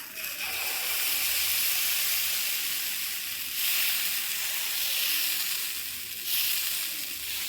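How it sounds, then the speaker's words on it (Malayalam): Dosa batter meeting a hot cast-iron griddle as it is poured and spread: a loud, continuous hissing sizzle up close, swelling in two brief surges, with no voices. "അപ്പം നമുക്കിതിലേക്ക് ദോശമാവ് ഒഴിച്ചു കൊടുത്ത് പരത്തി കൊടുക്കാമേ"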